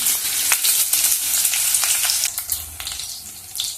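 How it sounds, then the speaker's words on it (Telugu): Dried red chilies and cumin seeds hit hot oil and fry with a loud, dense sizzle, steady at first and easing slightly, with occasional stirring scrapes. "ఆయిల్ బాగా వేడెక్కినాక ఎండుమిర్చి, జీలకర్ర అయితే ఇందులో యాడ్ చేసుకోవాలండి"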